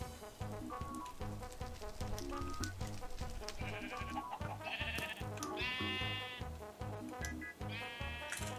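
Sheep in the Minecraft video game bleat repeatedly over a busy, rhythmic music track, the bleats rising clearly in the second half at moderate loudness.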